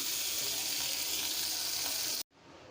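Onions frying in oil to brown for dhaba-style mash daal give a loud, steady, dense sizzle that runs unbroken for about two seconds, then cuts off abruptly and drops to a quieter hiss.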